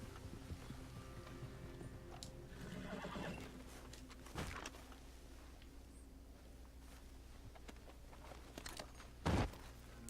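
A horse in the Red Dead Redemption 2 video game gives a short whinny midway and a louder, sharper neigh near the end, over a steady low game ambience with faint background clatter.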